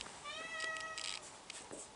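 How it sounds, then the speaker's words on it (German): A domestic cat meows several times close by, drawn-out tonal cries in quick succession with no talk over them. "Katze!"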